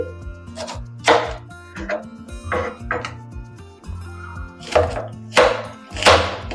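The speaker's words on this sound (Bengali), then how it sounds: "অর্ধেকটা পেঁয়াজ কুচি করে নিচ্ছি" Half an onion being finely chopped with a knife on a board, giving a string of irregular crisp knocks, close and fairly loud, over steady background music.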